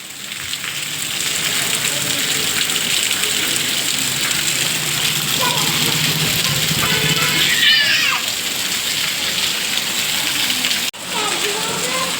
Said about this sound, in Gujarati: વરસાદ જોઉં છું બહુ વરસાદ પડ્યો